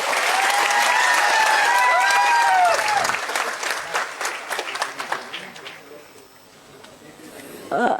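Loud audience applause fills the hall for about three seconds at a Vanjari community kirtan gathering in Mumbai, then thins into scattered claps and crowd murmur, with a short burst of clapping near the end.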